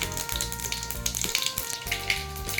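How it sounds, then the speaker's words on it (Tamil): Cumin, mustard seeds and urad dal fry in hot oil for a broad bean poriyal, giving a steady close crackling sizzle with quick scattered pops and no voices. "ஜீரகம் போட்டுக்கோங்க கடுகு உளுத்த பருப்பு போட்டுக்கோங்க"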